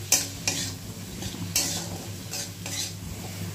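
Spice paste and tomato being stir-fried in a pan over low flame, with soft sizzling under repeated scraping strokes of a spoon against the pan, close and unhurried, no talk.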